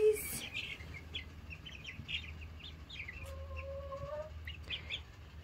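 Baby chicks chirp in a small coop with two hens nearby, scattered high peeps over a low background hum, with a few louder calls near the middle.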